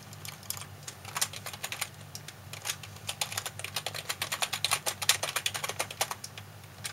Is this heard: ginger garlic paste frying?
no